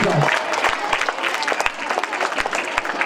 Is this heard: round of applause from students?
yes